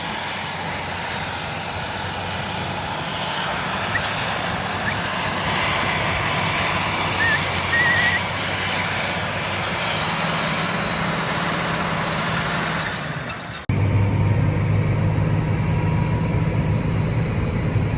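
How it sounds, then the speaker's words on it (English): A tractor running a power harrow across a field drones with a steady, loud engine note heard from the ground, with a sudden change in tone and level near the end. "it should allow you to hear the engine a bit more."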